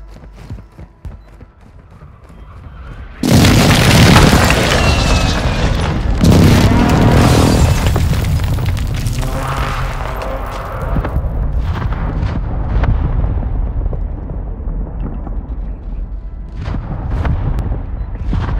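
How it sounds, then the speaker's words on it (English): Heavy booming airstrike explosions in an online shooter video game, a loud sustained barrage of blasts and rumbling impacts that rolls on and slowly fades, with scattered gunfire after it. "Friendly airstrike on the way."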